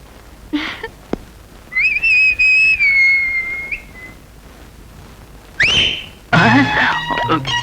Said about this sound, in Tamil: என்னடா விசில் விசில் எல்லாம் பொறி பறக்குது?